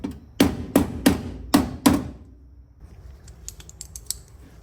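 Five sharp hammer taps in a quick, slightly uneven series ring out against sheet metal while forming a front-end panel on a 1965 VW Beetle, followed by faint light clicks and tapping.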